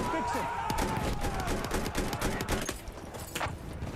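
Rifle fire and other gunshots crack through a dense Battlefield 1 firefight, with sharp repeated reports, scattered distant shots and echoing battle noise under faint voices, the Russian 1895 rifle among the weapons firing.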